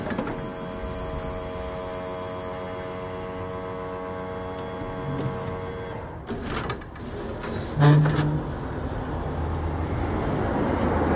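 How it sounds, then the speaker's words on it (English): A powered flap on the wheelchair lift of a 2001 Infinity 34-foot RV runs with a steady electric motor hum and whine. Near the end it gives a brief rattle and a louder mechanical clunk, with no talking. "Little flap is power, as you can hear."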